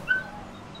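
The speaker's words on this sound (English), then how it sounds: "Who's over there beating their dog?" A dog gives a short, high whimper near the start, then a thin whining tone trails off under faint background noise in a Halo match.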